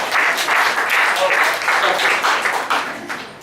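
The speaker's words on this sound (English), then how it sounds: "Clap your hands if you're in a relationship." A comedy club audience claps in a lively, dense burst of applause from many hands, loud and close, holding steady for a few seconds before thinning out.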